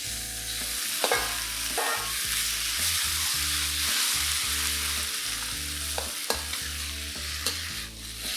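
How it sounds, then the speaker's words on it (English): Beef stir-fried in a hot pan with fermented black beans and aromatics, a steady loud sizzle broken by repeated scraping clanks of the spatula against the pan, with no voices. "Fry the beef till it changes color"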